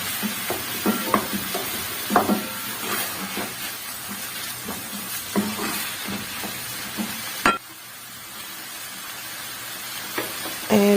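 Peppers, hot chilies and bell peppers, with tomatoes sautéing in a pan, giving a steady sizzle with repeated clinks and scrapes of stirring, loud and close, briefly quieter partway through.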